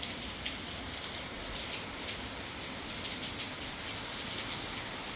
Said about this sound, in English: But hopefully this rain lets up.